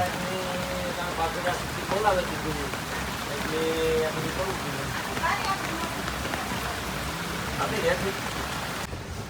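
Heavy rain pours steadily onto open water and a speedboat on a fishing outing, a constant dense hiss throughout with someone talking over it.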